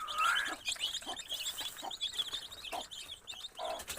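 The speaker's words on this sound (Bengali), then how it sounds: "এই যে আমাদের কালি, আর আমার এই ফার্মের টপ মোরগ" Chickens and a rooster cluck and call in a farm yard, a steady run of short, fairly close clucks and squawks overlapping each other with no talk.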